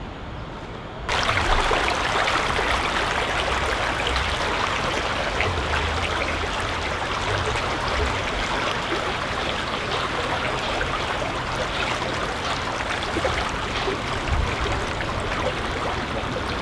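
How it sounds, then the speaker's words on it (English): The River Medlock pours into an underground culvert where it disappears below ground, giving a loud, steady rushing roar that starts abruptly after a second and continues unbroken, with no voices. "It's not a true siphon, but it's where the River Medlock disappears underground."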